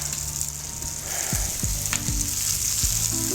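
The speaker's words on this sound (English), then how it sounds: "So stir this bacon here. We got a good color going on it." Bacon and onions sizzle steadily in a pan, a loud, close, continuous frying hiss with a few light stirring knocks near the end and no talk.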